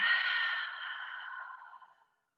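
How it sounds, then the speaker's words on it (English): A long, deep breath pushed out through an open mouth, a soft airy rush that starts full and close, then tapers gradually over about two seconds into silence. "Open mouth, exhale."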